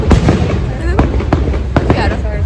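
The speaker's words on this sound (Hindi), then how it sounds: "अभी भी चल रहे हैं फायरवर्क्स" Fireworks and firecrackers burst on Bonfire Night in the UK, a rapid string of sharp cracks and pops at varying distances over a rumbling backdrop, with a voice talking underneath.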